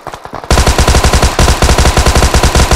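Automatic weapon fire in the battle royale game PUBG Mobile during an ambush near a bridge, loud rapid bursts of shots in a fast steady rhythm after a brief quieter moment, close and dominant.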